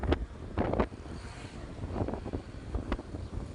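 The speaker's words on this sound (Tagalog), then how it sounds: "Lakas pa ng hangin." Gusty wind buffets the microphone in a low, rumbling roar, rising and falling in bursts with a faint wash of water in the background.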